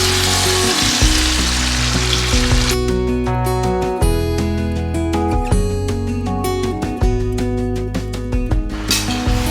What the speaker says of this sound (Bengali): মশলাটা সামান্য একটু কষিয়ে নিয়ে এর মধ্যে ম্যারিনেটেড মাটনটা অ্যাড করে দিই।